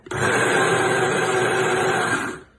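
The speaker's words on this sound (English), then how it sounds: "So this is the blender for the green chutney." A kitchen blender whirs steadily while blending green chutney ingredients, a loud continuous motor drone that starts abruptly, holds for about two seconds, then winds down.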